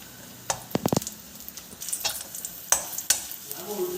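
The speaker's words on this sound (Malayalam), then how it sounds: "മുന്തിരിതാ കിസ്മിസ് വറക്കണം നെയ്യിൽ വറുത്തിടുക" A spoon scrapes and stirs in a pan with a few sharp clinks, then a soft sizzle of raisins frying in hot ghee.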